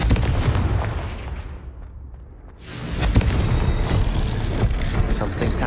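A Confringo explosion spell goes off in Hogwarts Legacy with a heavy blast that fades out, then a second booming burst with rumbling debris, while a voice calls out over it.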